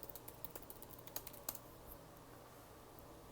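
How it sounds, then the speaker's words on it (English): Keys on a computer keyboard are typed in quick, light taps with a few louder strokes, close and clear against a quiet room. "you just type your password"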